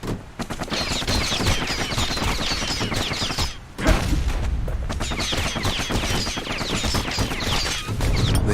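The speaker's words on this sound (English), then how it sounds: "Why do these guys like drop bombs when they die?" Rapid bursts of explosions and gunfire in a video game as defeated enemies drop bombs, a dense, loud, continuous barrage of pops and blasts with a brief lull midway.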